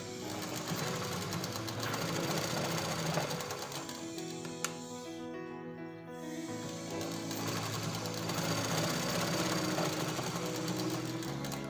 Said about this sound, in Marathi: आता आपण स्टिच करून घेणार आहे